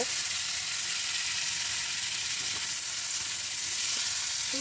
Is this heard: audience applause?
no